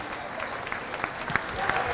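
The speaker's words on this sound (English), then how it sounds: "how about a nice round of applause for Melvin the Spoiler Wynn" Crowd applause at a boxing match after a third-round TKO stoppage, a steady wash of clapping with scattered sharper claps and cheers throughout.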